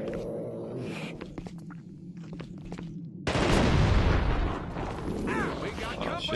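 Gunfire erupts in the video game The Thing: quieter scattered game noises give way to a loud, sustained burst of shooting and blasts in the second half, with a player's voice talking at times.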